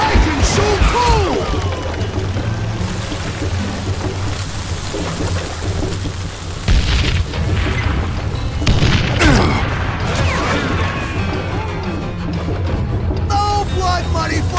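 Dynamite blasts in the Western shooter Call of Juarez: Gunslinger, booming dull and heavy amid game gunfire and action noise, with a shouting voice over the din throughout.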